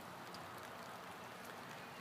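Steady spring rain falling outdoors on just-thawed ground on a cool, sunless day, a dense even hiss with no gaps, no talk over it.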